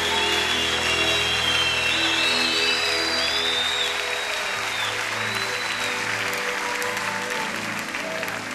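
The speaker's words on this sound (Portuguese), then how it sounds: "Aplauda forte a Ele." Loud, sustained applause from a large audience at a Christian gospel event fills the space, steady throughout, with music or voices faintly underneath.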